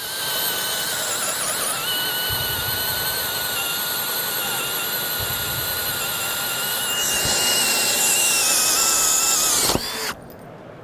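A 12-volt cordless drill in drill mode at speed one runs under heavy load in a stall test. Its high, strained whine holds steady, then rises in intensity before cutting out abruptly near the end.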